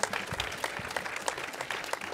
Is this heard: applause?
yes